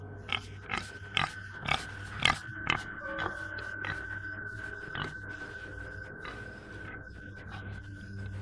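A pig in an animated Uzbek horror cartoon gives a string of short, rhythmic grunts and snorts early on, then trails into softer, scattered grunts over a low steady hum.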